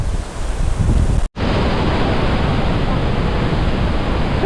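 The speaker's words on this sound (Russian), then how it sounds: "это какое-то огромное количество воды просто падает и сейчас летит" Thunderous roar of Iguazu Falls in Argentina at the Devil's Throat, a loud, dense, continuous rush of falling water, close by, broken by one brief dropout before the roar resumes unbroken.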